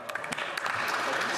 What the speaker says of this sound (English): I hope that you and all members of this House will join me in a round of applause